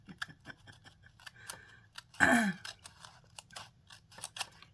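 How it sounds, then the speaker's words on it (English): An X-Acto blade cuts wrinkled paper with a series of sharp, close snipping and scratching strokes, one louder rasping cut in the middle, with no talk. "the X-Acto blade does not work very good on this wrinkled paper"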